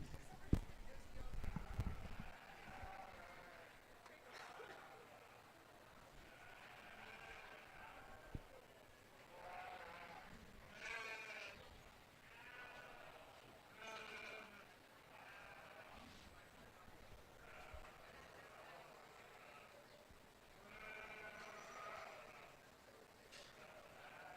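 Faint, repeated sheep bleats at a New Mexico county fair sheep and goat show, spaced through the clip amid quiet voices and scattered hoof and handling noises.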